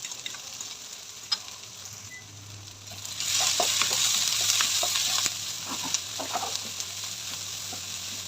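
Boiled mashed potatoes stirred into onions frying in a pan, a steady sizzle that swells louder partway through, with scattered scraping taps of the spoon and no talking.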